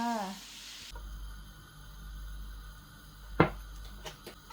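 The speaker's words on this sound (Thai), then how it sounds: "ใส่กระเทียมลงไปเลยจ้า ตามด้วยกุ้งจ้า" Garlic hits a hot pan for Thai prawn fried rice (khao pad goong) and sizzles steadily, a close, bright frying hiss with a sharp clatter from a utensil partway through.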